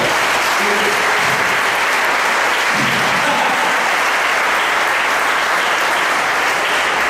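Loud, sustained applause from a church congregation during a sermon fills the whole stretch, a dense even clatter of many hands clapping without letting up.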